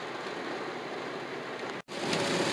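Steady rain falls in South Florida, a dense, even hiss of drops that continues without a break apart from one very short gap.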